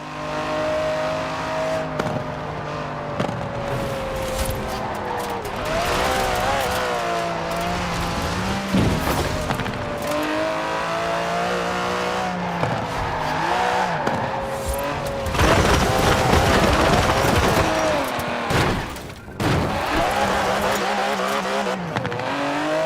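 Aston Martin DB11 with a 5.2-litre twin-turbo V12, driven in Forza Horizon 4: a continuous engine note rising and falling through gear changes, with revving surges, shifts and brief tire squeals, loud and close throughout.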